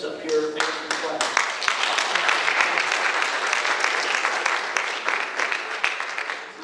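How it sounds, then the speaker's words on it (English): A forum audience applauds the candidates, a dense, steady round of clapping that swells quickly and holds for several seconds before tapering slightly. "give a round of applause to all the candidates up here answering questions"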